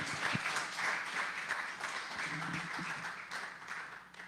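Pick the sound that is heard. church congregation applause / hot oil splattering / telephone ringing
church congregation applause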